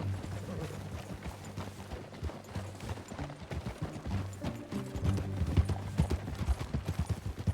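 Rapid, rhythmic clip-clop of horse hooves in the video game Red Dead Redemption 2 growing louder over a low rumbling backdrop, like a horse trotting closer.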